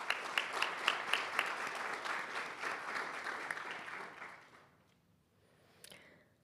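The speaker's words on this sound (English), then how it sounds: "So a big round of applause to welcome him on stage" An audience at an international report pre-launch event applauds to welcome a speaker on stage, a few sharp claps standing out in a steady round that fades after about four seconds, followed by a brief noise.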